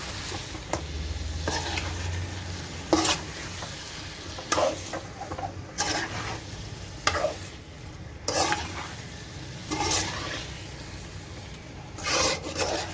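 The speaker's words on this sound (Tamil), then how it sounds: "சிக்கனை சேர்த்து நம்ம நல்லா மசாலா கூட நல்லா ஒரு 2 நிமிஷம் நல்லா வதக்கி விட்டுக்கலாம்" Chicken pieces sautéing with masala in a pan for a home-style chicken gravy, with a steady low sizzle and repeated scraping, rasping stirs at irregular intervals, close and fairly loud, no talking.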